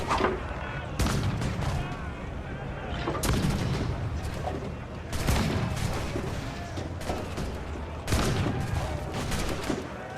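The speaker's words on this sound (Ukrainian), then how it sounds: "це зараз буду стріляти, це фальконет" Falconet ship cannons fire during a naval battle in the video game Assassin's Creed 4 Black Flag, several loud booming volleys spaced a couple of seconds apart over rumbling battle noise, with a voice talking throughout.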